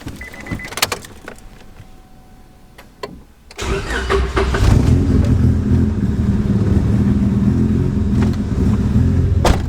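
Clicks and a brief electric whir, then a 10th-generation Honda Civic Type R (FK8) engine cranks and catches, settling into a loud, steady idle rumble nearby.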